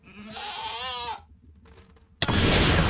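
Quantum Goat in a Minecraft modpack gives a clear, wavering bleat lasting about a second, then a faint murmur follows and a loud burst of noise at the end.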